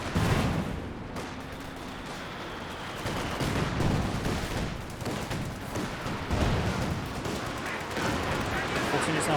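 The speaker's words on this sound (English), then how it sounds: "Panzer barrage missing the intersections" Panzer artillery shells rain down in the Company of Heroes 2 strategy game, with dense booming blasts and crackling fire rolling continuously as a commentator talks over them.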